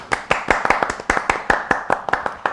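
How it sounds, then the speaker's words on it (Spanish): A single person claps steadily in an even rhythm, roughly five claps per second, close and clear with no voices over it. "Así que, si te parece, primer aplauso."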